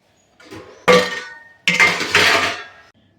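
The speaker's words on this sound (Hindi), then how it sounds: "अभी जो ये रात के बर्तन धुले हुए थे, अब इनको मैं लगा लेती हूँ।" Washed steel kitchen dishes being put away and stacked, two loud close clattering bursts of metal and ceramic clinks and knocks, each ringing briefly, with no speech.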